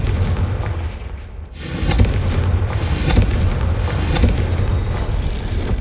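A fiery Confringo spell blast in the Hogwarts Legacy video game lands as a loud burst and is followed by several more booming impacts and crackling rumble over a low, sustained ambient drone.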